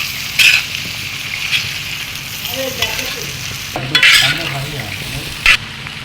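Beef fry stirred in a pan, with a steady close sizzle broken by a few sharper scraping strokes of the spoon across the pan, and no voices.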